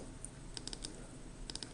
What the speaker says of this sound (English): So I'm just going to keep double clicking until I get 13 sheets here.